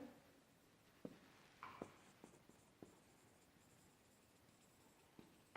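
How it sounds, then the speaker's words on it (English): Pen or marker writing on a board during a Class IX science lesson, a sparse series of quiet strokes and taps with a few sharper knocks, faint and alone with no talking. "Let me write"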